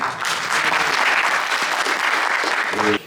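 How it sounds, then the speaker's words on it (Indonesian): Audience applause at an Indonesian public event: loud, steady clapping from a crowd held for about three seconds, then cutting off abruptly as a voice begins. "tepuk tangan untuk Indonesia"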